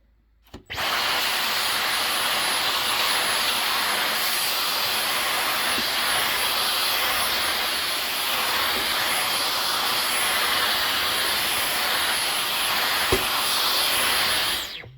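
A Dyson V15 Detect cordless vacuum cleaner with a laser fluffy roller head runs steadily at close range, a loud, even high-pitched whine and airflow hiss that starts abruptly and holds for the whole stretch, with a couple of faint clicks.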